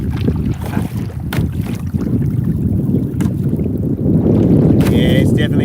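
Strong wind roars across open water beside a kayak, buffeting the microphone with a constant low rumble and occasional splashes.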